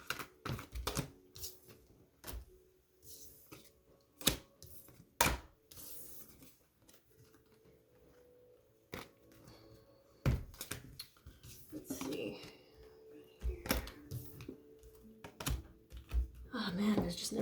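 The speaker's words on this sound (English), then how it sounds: "let me put away these cards." Tarot cards tapped, shuffled and stacked as they are gathered and put away, a string of sharp clicks and soft rustles close by, with a voice talking through parts of it.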